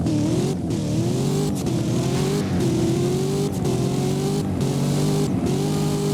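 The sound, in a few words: Corvette ZR1 accelerating in a video game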